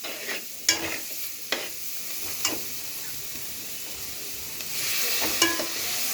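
Veg fried rice stirred in a pan right after soy sauce goes in, giving a steady close sizzle with repeated scraping strokes of the spatula and brief clatters, with no talk.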